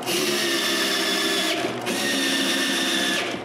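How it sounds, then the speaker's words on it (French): A power drill bores screw holes in a wooden piece for a homemade edge sander. Its loud, close, steady whine runs almost nonstop with a short dip partway through, and no voices are heard. "je perce tout de suite tous les trous pour toutes les vis"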